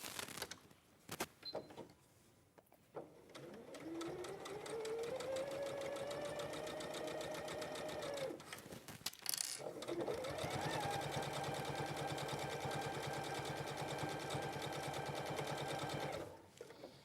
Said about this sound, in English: So we're going to stitch down either side to secure it.